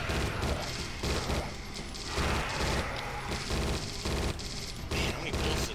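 Rapid bursts of gunfire from the Judge Dredd: Dredd vs. Death video game, repeated volleys of automatic shots in loud clusters with brief pauses between them, game action continuing throughout.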